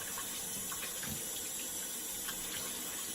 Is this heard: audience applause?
no